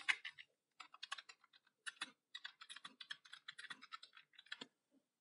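Computer keyboard typing out a caption in WordPress, irregular quick clicky keystrokes in short bursts, close but quiet, with no talk.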